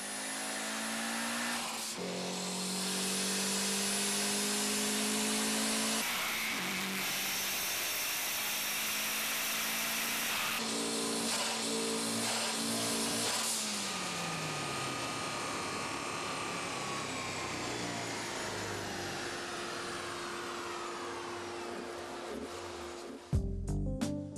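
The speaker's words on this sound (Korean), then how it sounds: "슈퍼카 못지않은 소리를 내는 튜닝카의 배기음." A turbocharged tuned car runs on a chassis dynamometer, its engine and exhaust revving hard and loud in long sustained pulls that rise and fall with a whining tone, then cut off abruptly near the end.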